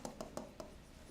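A pen writes by hand on paper in a few quick, faint scratchy strokes, four short bursts in about a second, close to the microphone and without talk.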